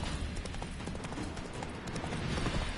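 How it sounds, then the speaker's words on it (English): Horse hooves clip-clopping in The Witcher 3 video game, a steady rapid stream of hoofbeats at moderate level throughout with no talk. "Spooking my horse."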